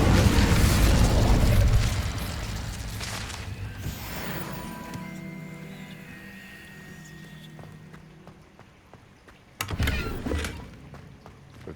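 A fiery burst from the Incendio fire spell in Hogwarts Legacy, loud at first and then fading into a crackling, rumbling tail, with a second sharp burst near the end.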